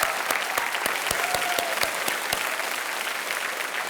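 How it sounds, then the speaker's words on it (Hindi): Steady studio audience applause on a televised quiz show, sustained and fairly loud, with sharp individual claps standing out over the dense crowd clapping, welcoming a contestant to the hot seat. "एक बार फिर तालियों के साथ इनका हम स्वागत करते हैं।"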